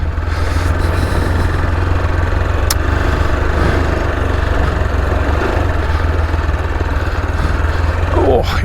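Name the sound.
AJP motorcycle engine going downhill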